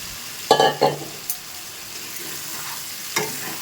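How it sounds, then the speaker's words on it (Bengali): Cauliflower and potato go into spiced oil in a pan, setting off a few sharp bursts of sizzling and stirring scrapes over a soft, continuous frying hiss. "মশলা থেকে তেল ছেড়ে দিয়েছি, মশলাটা কষানো হয়ে গেছে। তো এবার ফুলকপি আলুটা দিয়ে দিচ্ছি।"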